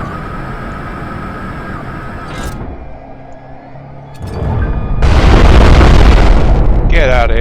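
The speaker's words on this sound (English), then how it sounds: "flashbangs." Flashbang grenades in a video game go off in loud booming bursts over a rumbling game soundscape, with a heavy sustained blast toward the end.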